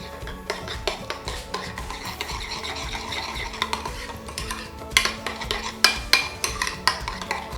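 Vinegar and salt dressing for vegan coleslaw being stirred in a bowl, a run of clinking, scraping utensil strokes that grow louder and sharper toward the end, close by with no speech.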